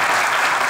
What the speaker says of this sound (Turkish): Atakan'la Cemile'ye büyük bir alkış